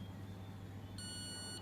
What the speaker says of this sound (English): bang, alarm, sump level low.